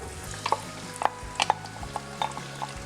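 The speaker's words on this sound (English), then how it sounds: "the butter's popping and ready for the onions and the celery" Onions and celery going into popping butter in a cast iron pan for Cajun shrimp and grits, giving scattered clicks and spoon scrapes over a faint sizzle, with a low steady hum beneath.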